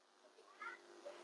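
A house cat meows, a couple of faint, short, close-by mews under a quiet background.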